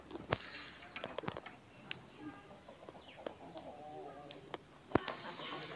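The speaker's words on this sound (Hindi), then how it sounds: "दोस्तों हमारी मुर्गियाँ यहाँ पे खा रही हैं," Backyard hens and young chicks feeding, giving soft scattered clucks and small chirps with occasional pecking taps and light patter, fairly faint and close, with no talk.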